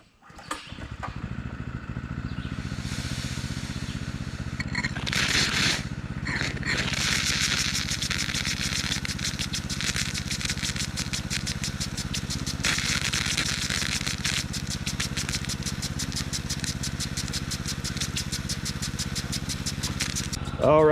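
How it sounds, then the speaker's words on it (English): A water pump set on low hums steadily and close for about twenty seconds, feeding a garden hose, with a broad rushing spray layered over the constant motor drone and occasional rattles. "I have the pump on low just for reference, but the pump seems to be working."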